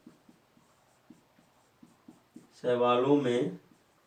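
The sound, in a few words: writing on a board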